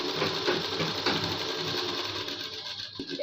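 A sewing machine runs continuously as it hems the neck strip of a kurta, with a close steady rapid needle chatter that slows slightly near the end.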